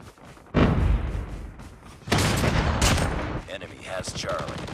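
Cluster strike explosions in the mobile game Call of Duty Mobile hit in two heavy bursts, each a sudden loud blast followed by crackling, rumbling debris and scattered sharp reports.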